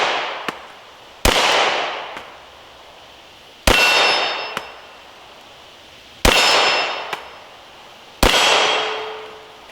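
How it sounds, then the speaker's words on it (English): A Glock 17 pistol fires five loud, sharp shots at uneven intervals, each followed by a ringing decay, with a few faint clicks between them. "Very first shots at my Glock 17."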